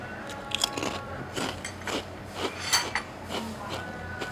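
Someone bites and chews crunchy prawn crackers in a Malaysian and Indonesian restaurant. Sharp crisp crunches come close to the mic in an irregular rhythm over faint room noise.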